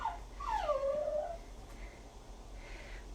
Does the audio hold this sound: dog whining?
yes